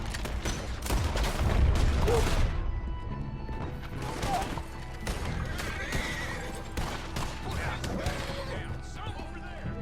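A horse whinnies amid a dense, noisy Red Dead Redemption 2 game soundscape with gunfire, crashes and shifting background effects throughout.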